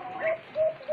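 A white-eared brown dove in a cage gives three short, mellow coos in a steady rhythm, close and clear with no voices.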